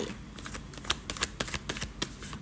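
Tarot cards are shuffled close up for a reading, giving a soft, steady riffle broken by sharp ticks and flicks as the cards slap together, with no talking.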